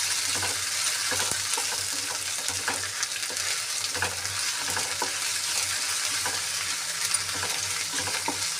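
Ginger garlic paste frying in a pan, a dense, steady sizzle running the whole time with faint stirring scrapes underneath, close and fairly loud, no voices.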